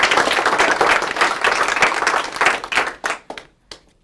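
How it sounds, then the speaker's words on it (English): An audience claps for a student about to give her capstone speech on animal companionship, a full burst of applause that tapers into a few scattered, separate claps at the end. "Can you get a round of applause for her?"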